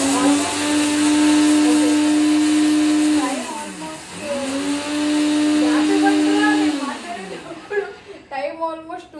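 A kitchen mixie grinder runs loud and close with a steady high whine, slows and winds down around the four-second mark, then restarts and whirs again before cutting off, leaving clattering handling noises at the end.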